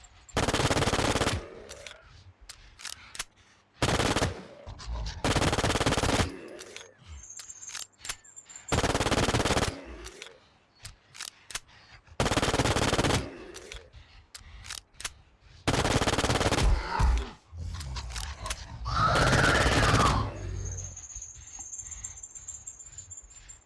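Bursts of B93R pistol fire in the video game Infestation during a boss hunt in a flooded city, with about eight long, loud rapid-fire volleys separated by short pauses, dry and close, with no talking.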